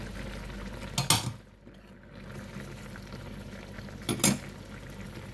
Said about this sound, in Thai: เราก็ใส่มะละกอลงไปค่ะ